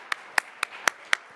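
Five distinct, spaced hand claps ring out at an award ceremony for a start-up winner, sharp and fairly close, evenly paced about a quarter second apart, each isolated with quiet between them.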